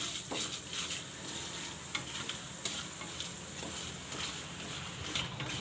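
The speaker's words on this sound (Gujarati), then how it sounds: "આપણે ચણાની દાળ નાખી દેવું ઘડીક વાર આપણે સડવા દઈશું" Chana dal with urad dal frying in a pan over a low flame, a steady close sizzle broken by soft irregular taps and scrapes of a spoon stirring, with no speech.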